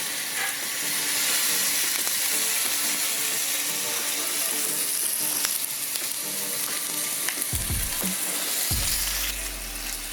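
A tomahawk steak sears on a hot griddle with a loud, steady sizzle throughout, broken near the end by a couple of scraping spatula strokes and a thump as it is flipped.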